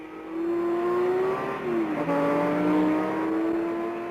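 Ford GT40 race cars at the 1968 Le Mans 24-hour race roar past with loud sustained engine notes, pitch sliding down and then climbing again as several cars approach and pass close together.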